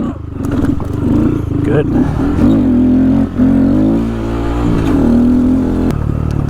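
A Honda Grom motorcycle on Shinko Mobber 505 tires with Olin shocks revs loudly up close on an off-road trail, engine pitch surging and dropping as it pops over a small fallen tree; a voice speaks briefly.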